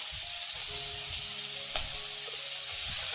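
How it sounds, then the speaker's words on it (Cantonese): A little bacon fries in a wok over a gas flame, giving a continuous close sizzle and hiss, with a brief spatula scrape as it is stirred around the pan. "我哋放少少煙肉落去，鏟一鏟佢"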